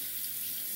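Tap water runs steadily into a sink for a rinse after a straight-razor shave, a bright, continuous hiss heard up close for under a second.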